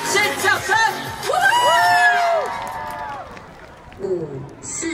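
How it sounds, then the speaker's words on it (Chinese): A crowd at a random play K-pop dance event in Taiwan whoops and yells excitedly, rising shouts and cheers with some clapping, close and lively, with excited voices throughout. "先掌声"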